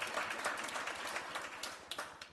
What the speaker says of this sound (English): Big round of applause for them.